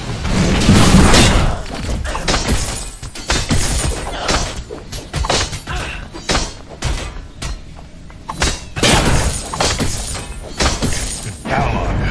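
Enemy tower destroyed in the MOBA Predecessor, heard as crashing shatter and thudding booms inside a dense game mix, with game voice lines sounding over the top.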